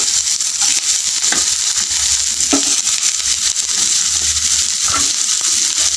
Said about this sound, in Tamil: ஆயில் நல்லா ஹீட் ஆகிடுச்சு இப்போ அரிஞ்சு வச்சுட்டு பாகக்காயை சேர்த்துக்கலாம்